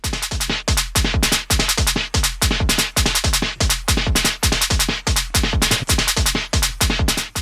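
A punchy electronic kick drum pulses in a fast steady pattern through a Worng SoundStage II VCA, each hit ducking the surrounding synth tone in a pumping sidechain rhythm, loud and alone.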